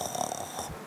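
A voice mimics loud snoring during congregational prayer, a steady nasal rasping drone held close and clear with no other talk over it.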